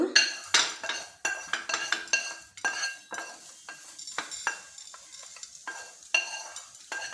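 A utensil stirs and scrapes mango chutney ingredients frying in a pan, sharp repeated metallic strokes in an uneven rhythm over a soft sizzle, close and fairly loud, with no talking.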